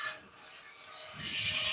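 A side scraper shapes spinning wood on a lathe, a steady, close rasping scrape that swells louder toward the end, with no talk over it.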